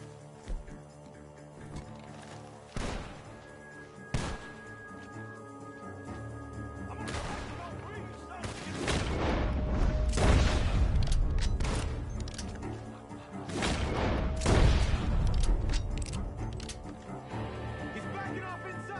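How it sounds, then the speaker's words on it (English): Scattered gunshots from Red Dead Redemption 2 crack and boom at intervals, growing denser and louder midway, over a rumbling game soundtrack with faint voices. "Gunshots are coming from that barn!"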